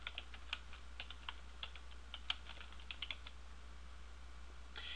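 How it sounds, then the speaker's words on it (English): Quick, light keystrokes on a computer keyboard entering a search phrase, irregular clicks in short bursts, faint and close over a steady low hum, with no voices. "In your search bar, just type in Google Keyword Tool."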